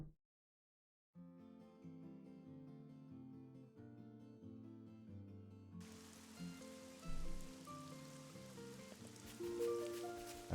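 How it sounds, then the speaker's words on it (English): Steady rain in the video game Xenoblade Chronicles 2 begins about halfway through, a broad hiss rising over soft in-game music that plays alone beforehand. "Oh great, it's raining now."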